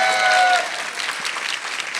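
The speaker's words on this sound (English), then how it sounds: "clap, clap, clap, clap, clap" Wedding reception guests clap together in a loud burst of applause that settles into lighter scattered clapping, with a brief tone ringing at the start.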